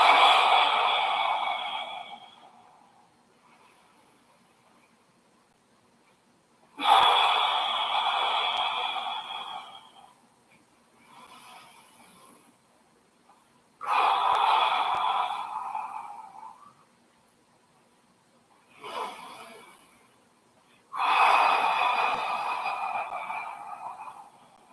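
Long, deep exhales during a full-body breathing exercise, five slow breaths spaced evenly apart with quiet gaps between them, close and clear.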